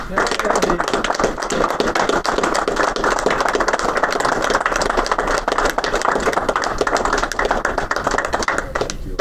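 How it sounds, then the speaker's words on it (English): A standing audience at an annual society meeting in a hotel ballroom applauds its outgoing president: dense, steady clapping from many hands that fills the room and holds evenly for about nine seconds. "could you please rise and give our outgoing president a round of applause for it"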